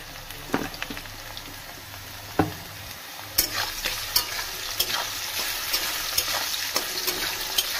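Potato pieces seasoned with a little salt and turmeric sizzle in a pan for a bitter gourd and potato curry, a steady frying hiss broken by sharp scraping clicks of stirring, close and alone.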